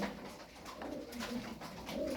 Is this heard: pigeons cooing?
yes